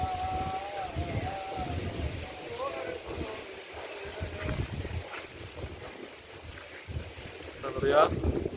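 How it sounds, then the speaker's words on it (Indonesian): Strong gusting storm wind, near 100 km per hour, buffets the microphone in uneven roaring surges, with a stronger burst near the end and someone speaking over it. "Lajuan anginnya ini betul-betul laju ini lur."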